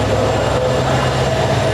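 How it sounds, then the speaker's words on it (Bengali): A train locomotive engine passes at a railway station with a loud, steady low rumble and rolling roar, unbroken through the moment and with no voices over it. "দেখেন একটা ট্রেনের যে ইঞ্জিন, সেই ইঞ্জিনটা যাইতেছে"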